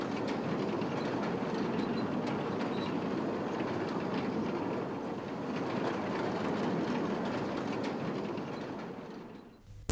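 A train rolls along the rails with a continuous rumbling roar and rhythmic clickety-clack of wheels, recorded close from atop the train, steady for the full length before a brief drop at the end; no voices.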